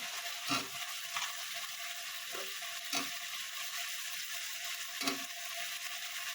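Cut potatoes tossed into a hot pan of frying greens and prawns, a steady sizzle broken by several sharp clattering scrapes of a spatula against the pan.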